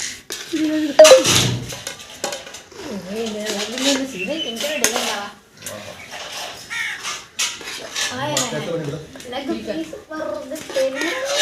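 Plates and spoons clink and rattle while a meal of biryani and raita is served at a home gathering, short metallic knocks scattered under near continuous conversation, with a crow cawing nearby.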